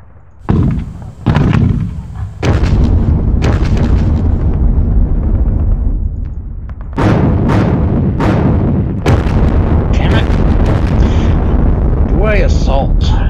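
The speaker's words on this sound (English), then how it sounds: "Let's light those suckers up with some artillery." Artillery barrages pound away in the wargame Sealion '40, a string of heavy booming impacts, some overlapping into a continuous rumble, others landing as sharp separate blasts, loud and close throughout.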